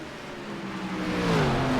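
A race car engine at Watkins Glen in an SMR X Series race revs and climbs in pitch over a couple of seconds, growing louder as it nears.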